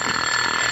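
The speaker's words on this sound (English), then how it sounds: "You heard my alarm watch." A 1949 alarm watch rings with a bright, sustained electric tone, steady and fairly faint for under a second, with no talk over it.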